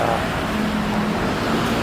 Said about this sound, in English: Traffic every day.